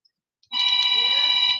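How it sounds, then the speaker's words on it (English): A mobile phone rings loudly with a sustained electronic ringtone that starts abruptly after a brief pause and continues for about a second, close and alone. "Her phone is ringing so loud because she can't hear."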